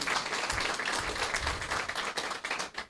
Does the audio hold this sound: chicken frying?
no